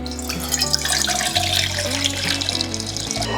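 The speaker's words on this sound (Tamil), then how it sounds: "இதில் கொஞ்சமாக தண்ணி விட்டுக்கோங்க." Water is poured in a small stream into a small idli vessel while puttu is prepared in a kitchen, a steady close trickling and splashing heard over a sustained low musical background.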